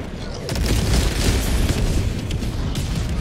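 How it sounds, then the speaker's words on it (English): Airstrike explosions in Helldivers 2 roll in as a heavy continuous boom and rumble, loud and sustained with crackling bursts layered through it. "Ooh, nice airstrike."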